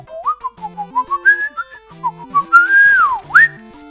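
A cartoonish whistle from Super Mario Maker 2 plays a bouncy, warbling tune of short rising and falling notes over game music, ending in a sharp upward slide.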